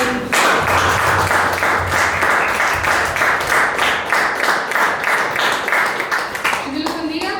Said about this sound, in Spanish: Vamos a darle un fuerte aplauso a nuestro Rey.